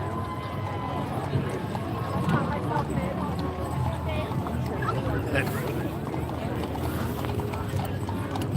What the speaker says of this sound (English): This is horses pulling this.